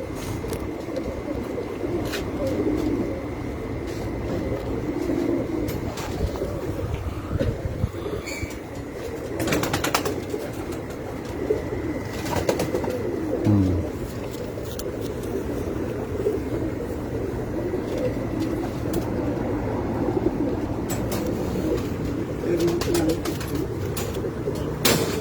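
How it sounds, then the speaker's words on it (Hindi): Soft pigeon coos sound over a steady low background hum, with occasional rustles and flutters nearby. "बहुत अच्छा कबूतर।"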